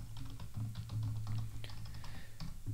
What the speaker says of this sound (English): And I'll type a root password here.